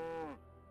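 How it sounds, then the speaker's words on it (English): A single cow moos in Dragon Age: Origins, one short, loud, low bellow that drops in pitch and cuts off quickly, leaving quiet background. "Hey cow."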